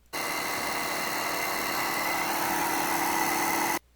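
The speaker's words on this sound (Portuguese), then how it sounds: "A nossa bomba, né? Ela trabalha com a rotação fixa" A fixed-speed water pump in a lab test rig runs at a steady, even hum from start to end, loud and close, with no talk over it.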